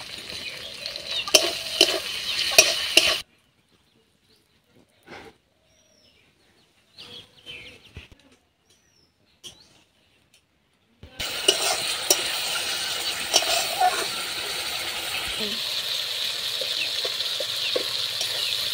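Spiced pointed gourd and paneer masala is stirred in a pan, with scraping and sizzling close by at the start, a long near-silent gap in the middle, then frying noise that returns steady and fuller.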